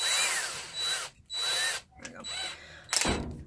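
A handheld power drill fitted with a drill bit whirs in several bursts, revving up and winding down with short pauses between, close and loud, followed by a brief clicking clatter of the tool.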